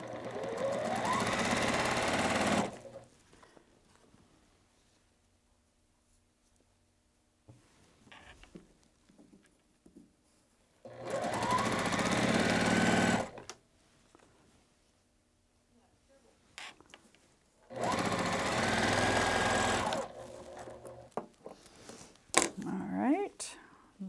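A sewing machine stitches a patchwork quilt block in three loud bursts of rapid whirring, each lasting a few seconds, separated by quieter gaps where someone talks and fabric rustles nearby.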